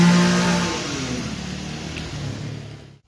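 Car engine revving and passing close by on a rainy road in Karachi. It starts loud, then fades gradually over about three seconds and cuts off abruptly.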